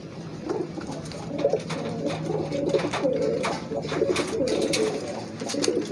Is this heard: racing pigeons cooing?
yes